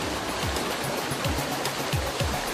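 Pumped water rushes steadily through a log flume ride channel, a dense, even roar of flowing water with faint low sloshing pulses underneath, close and continuous.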